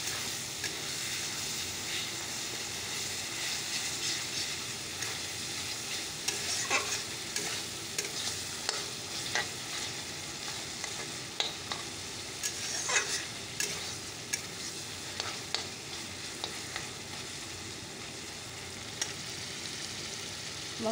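Spice masala fries in oil in a pan with a constant hissing sizzle, punctuated by regular scraping strokes of a spatula as it is stirred slowly throughout.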